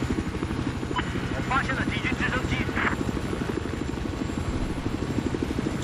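A steady, droning helicopter rotor thrum in the video game Battlefield 4 runs throughout, with brief voices speaking over it partway through.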